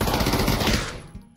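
Rapid automatic weapon fire in the Pavlov VR shooter game, a loud, dense burst of shots lasting about a second before cutting off, followed by a faint tail.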